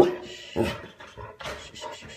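A dog nearby pants in short breathy bursts mixed with soft whimpers.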